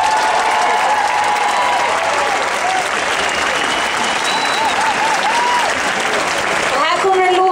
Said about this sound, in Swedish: Ge också en stor extra applåd till mitt fantastiska band.